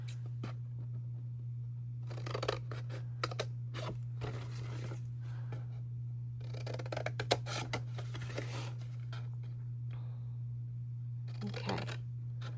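Scissors cutting paper for a lantern snip and crunch in several close bursts of short cuts separated by pauses, with a steady low electrical hum underneath.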